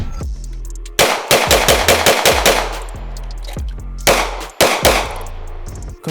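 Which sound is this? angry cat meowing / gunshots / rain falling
gunshots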